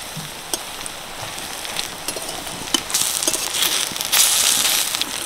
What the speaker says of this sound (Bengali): এগুলোকে উল্টে পাল্টে লাল লাল করে ভেজে নেব।